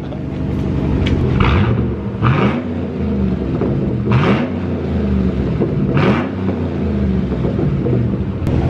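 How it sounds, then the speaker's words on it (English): A 2010 Cadillac Escalade with the muffler deleted and the resonator kept revs its engine several times, giving loud, close, rumbling exhaust surges that rise and fall over a constant idle. "we're gonna get a little rev action here for you guys"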